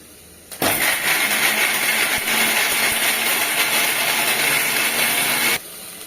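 A mixer grinder blends ingredients for avarekalu sambar into a thick paste with added turmeric, a loud steady whirring roar that starts abruptly, runs evenly for about five seconds and then cuts off, with no talking.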